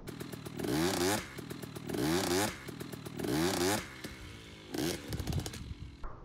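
A dirt bike engine revs hard in repeated loud bursts during a wheelie, each blip of throttle rising and falling, with brief quieter gaps between them.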